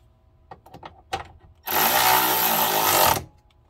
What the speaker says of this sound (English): Let me tighten it with my wrench.